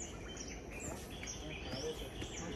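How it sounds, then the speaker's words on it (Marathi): Birds chirping on a coastal plateau near Ganpatipule in Ratnagiri, faint scattered calls over a steady wash of wind and ambient noise, with a voice faintly present. "कारण की पाखरांचे आवाज ऐकू शकतो आपण"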